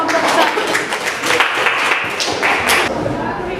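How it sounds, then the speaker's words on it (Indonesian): Classroom applause for a student group, a dense patter of many hands clapping continuously and loudly throughout. "Kita kasih aplaus untuk kelompok 2 dan kelompok"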